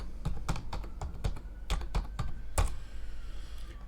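Typing on a computer keyboard: a run of crisp, close key clicks in irregular bursts, fairly quiet, with a short pause near the end and no voices.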